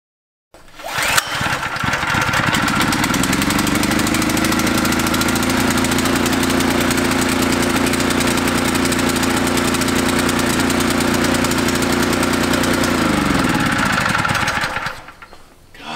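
A gasoline-powered water pump engine on an off-grid homestead catches and runs at a loud, steady, even drone for about thirteen seconds, then winds down and cuts out.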